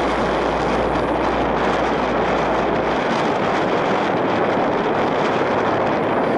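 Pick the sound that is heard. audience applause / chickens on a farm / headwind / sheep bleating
headwind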